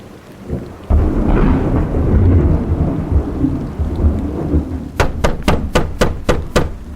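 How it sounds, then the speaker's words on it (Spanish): Heavy rain pours steadily as deep thunder rolls in loud and close, followed by a rapid series of sharp knocking bangs near the end. "ya empezó a llover más fuerte y está oscureciendo"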